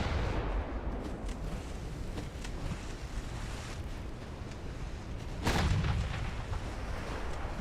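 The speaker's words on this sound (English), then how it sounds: "There we got a torpedo detonation." A torpedo detonates against a warship in the naval game Ultimate Admiral Dreadnoughts, heard as a dull, booming burst over a constant rumble of sea and wind, with the low roar swelling briefly before settling back into the ambient wash.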